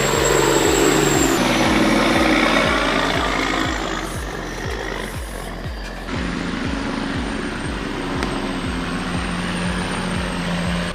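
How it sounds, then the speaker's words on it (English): A heavy logging truck working in the rain in the Pacific Northwest, its engine loud and close with a deep, rapidly pulsing engine-brake rumble that steps down through downshifts. "Downshifts, engine brake rumbles, and the driver swings the nose wide"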